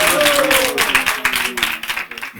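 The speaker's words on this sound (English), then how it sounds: "Give him a big round of applause" Applause from an audience at a spiritual talk, a steady wash of many hands clapping with scattered cheers and a voice speaking over the start, thinning out toward the end.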